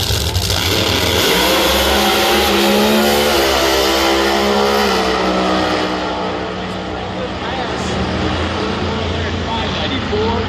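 A Pro Mod drag race car at the Thunder Valley Nationals launches hard down the strip, a thunderous engine roar that rises and then fades as the car pulls away, with announcer-style talk layered over it.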